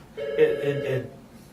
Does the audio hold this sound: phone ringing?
yes